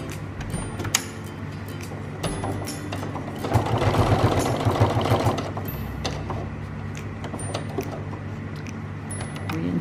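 Sewing machine stitching through webbing, a close mechanical whir that builds into a louder rapid run for a couple of seconds, with faint clicks and handling before and after.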